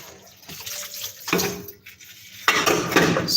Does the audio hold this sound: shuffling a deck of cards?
no